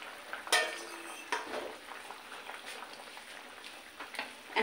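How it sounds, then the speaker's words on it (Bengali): Pieces of fried koi fish drop into a pot of simmering mixed-vegetable curry, giving a soft sizzle with scattered clinks and stirring sounds close by. "সেই কই মাছটা ভেজে রাখছিলাম সেটা দিয়ে দিলাম।"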